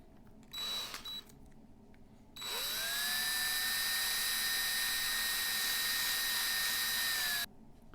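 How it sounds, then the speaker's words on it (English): A rotary tool spins up to a high, steady whine while its stone grinds the axle of a Matchbox 73a RAF 10 Ton Pressure Refueller toy for about five seconds, after a brief earlier buzz. "when you're grinding it with the stone, it doesn't touch the wheel"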